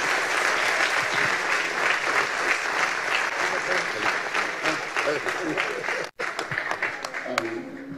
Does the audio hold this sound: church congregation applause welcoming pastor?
yes